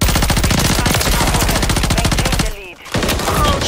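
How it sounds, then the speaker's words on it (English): Dense, rapid automatic gunfire from Call of Duty: Modern Warfare III, loud and nearly unbroken bursts that pause briefly before resuming, with faint game sounds between. "Can you shoot that many bullets in that general direction and still miss them?"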